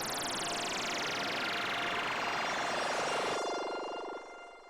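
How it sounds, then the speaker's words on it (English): A bubble-effect synth patch in a music production session plays a dense, buzzing electronic texture that sweeps steadily downward in pitch, then thins out abruptly near the end. "So then further, I've got this bubble effect noise"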